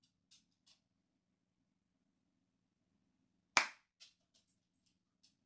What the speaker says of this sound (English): we're gonna do a clap